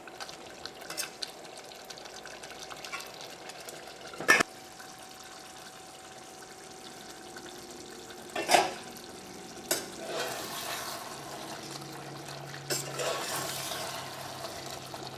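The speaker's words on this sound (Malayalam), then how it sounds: "നമുക്ക് തീ പതുക്കെ ഒന്നും കൂടി കൂട്ടി വെച്ചിട്ട് നമുക്ക് കറി വേവിക്കാം." Pepper chicken curry sizzles and simmers steadily in a pan, with a soft bubbling hiss and a few sharp clinks of a utensil against the pot.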